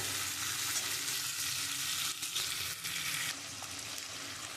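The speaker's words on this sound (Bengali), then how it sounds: "আমি এইটা দিয়ে একটুখানি কষাবো আলুটা" Fried potato pieces sauté with mutton in a pan, giving a steady, close sizzle with stirring scrapes throughout, the hiss dipping briefly in places before settling slightly quieter.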